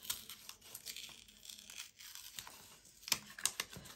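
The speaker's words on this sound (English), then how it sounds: "Let's carefully see if I can open it without ripping it." A paper envelope being carefully torn open by hand, with soft crinkling and a couple of sharper, brief tearing rips near the end, close and quiet.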